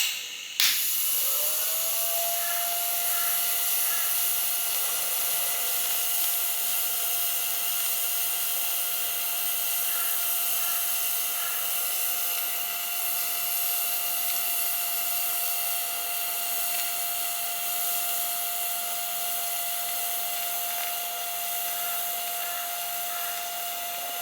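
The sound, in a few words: welder laying filler on motorcycle hardtail frame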